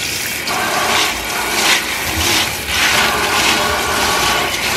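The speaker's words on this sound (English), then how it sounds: "now we're going to rinse them off" Soybeans are rinsed under running water, which gives a steady, fairly loud splashing rush that swells and eases in waves, with no one talking.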